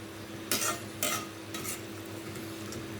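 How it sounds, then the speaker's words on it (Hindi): Spices of red chilli powder, cumin, coriander powder and salt stirred into a hot pan for mixed vegetable pulao, with three short bursts of sizzling and scraping over a steady low kitchen hum. "बाकी ये मसाला जात ये डाल रही हूँ"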